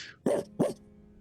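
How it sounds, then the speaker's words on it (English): A dog gives two sharp, close barks about a third of a second apart, each ringing briefly, after a faint breathy sound, with quiet room hum afterward. "You hear a bark."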